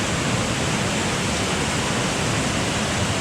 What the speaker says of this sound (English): So that's the water flow from upstream.